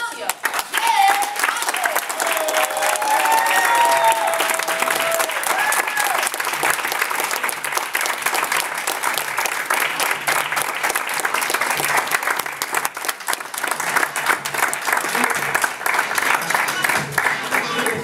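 Audience at a real estate investors' meeting in New York City applauding a speaker as he is introduced: sustained, dense clapping from a roomful of people lasting the whole stretch, steady and fairly loud, with scattered voices mixed in.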